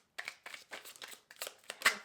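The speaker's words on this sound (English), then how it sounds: "All right, one more shuffle." Tarot cards shuffled in quick, faint papery bursts, several soft riffles in an uneven rhythm close by, with no talking.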